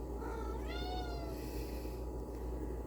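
A pet cat gives a single clear, close meow while being carried around an apartment, rising then falling, over a steady low hum.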